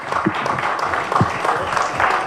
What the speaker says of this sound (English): I think the panel deserves a louder clap.